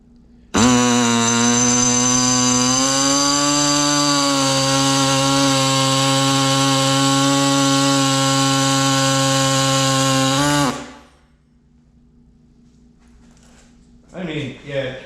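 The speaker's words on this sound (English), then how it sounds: "I actually think with the small hacksaw or this air saw, you get a little cleaner cut" A pneumatic air saw cuts through metal with a loud, steady, high-pitched mechanical whine that holds for about ten seconds and then cuts off, followed by a few faint knocks.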